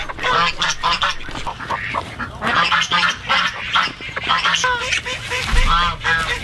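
A flock of ducks quack loudly and close by, with overlapping, busy calls that go on without a break while they feed on grain and worms from freshly turned soil.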